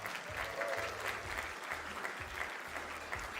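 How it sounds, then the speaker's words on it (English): Audience applause fills the room for a livestreamed Champions of Change event's sponsors, a steady even patter of many hands clapping at moderate distance, with a faint voice mixed underneath. "Give them all a round of applause."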